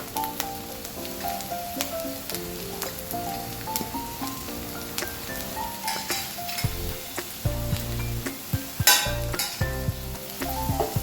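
Onions fry in a pan with ginger, garlic and green chili for a paneer curry, giving a steady sizzle with stirring scrapes beneath prominent background music.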